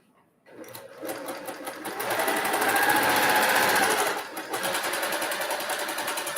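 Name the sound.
sewing machine stitching a quilt block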